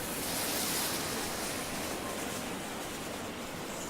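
A water fountain in the video game Islands: Non-Places runs with a steady, loud rushing hiss of falling water, continuous and unbroken, with no voices over it.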